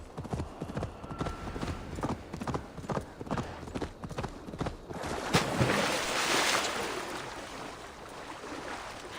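Horse hooves clip-clop in Assassin's Creed Valhalla: a fairly quick, even run of hoofbeats near the listener. The hoofbeats then give way to a swell of rushing water as the horse swims.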